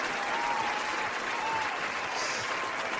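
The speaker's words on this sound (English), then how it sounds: "Round of applause for Princess" Steady applause from a crowd fills the whole stretch, a dense patter of clapping at an even level without a break.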